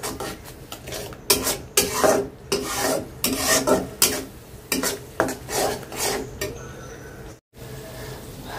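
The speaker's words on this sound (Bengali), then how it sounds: "এখন হচ্ছে ভালো করে একটু কষাবো।" A spatula scrapes and rubs rhythmically against a pan while spice paste with salt is stir-fried for egg korma, giving repeated close, rasping strokes about twice a second and a brief pause near the end.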